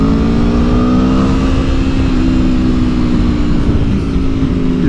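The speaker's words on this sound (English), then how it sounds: "Does sound like on a MotoGP bike. It is an intoxicating noise." A 2022 Aprilia Tuono V4 motorcycle engine revs loud and close, a steady high-pitched V4 howl that holds and shifts slightly in pitch, with no talk over it.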